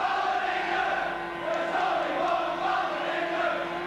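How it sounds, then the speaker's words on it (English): A large rugby league crowd at a St Helens versus Australia match in 1986, singing chants together in a sustained, droning roar of many voices heard from a distance. "Now this crowd here have got the same ability or capability to sing the songs the way the English soccer fans do"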